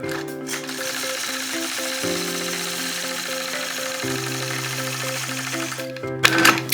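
A sewing machine stitches steadily through a quilt block guided along a Sway 4 ruler, its motor humming with a continuous mechanical whir that shifts pitch slightly in steps before stopping near the end, followed by brief clatter.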